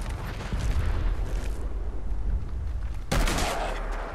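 Continuous rumbling, crackling noise like fire and blast debris in the video game Fallout 4, then a sharp burst at about three seconds as a car explodes.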